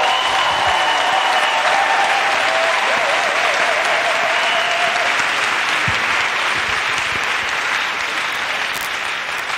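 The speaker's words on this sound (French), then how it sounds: "Acclamez pour lui." Audience applause at a French religious gathering, a dense, even clapping from a large crowd that stays loud and steady throughout, with a faint sustained tone underneath early on.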